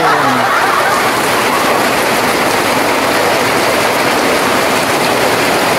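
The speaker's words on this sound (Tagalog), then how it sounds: "Ayan, pumatak ang ulan guys" Rain begins falling on a hot May day, a dense, steady hiss of drops that fills the whole moment without pause, no voices over it.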